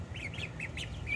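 Nervous runner ducks in a brooder giving a run of five quick nasal quacks, close and clear over a low steady hum.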